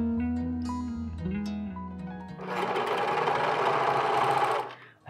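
A sewing machine stitches around a jeans waistband in a short, loud, buzzing run that starts about halfway through, after quieter handling sounds.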